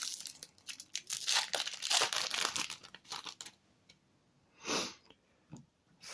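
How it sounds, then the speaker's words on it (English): A Magic: The Gathering Journey into Nyx booster pack wrapper is torn open close up, giving a few seconds of sharp crinkling and ripping, then quieter rustles and a soft sniff. "So I will open this now and let's see what we get."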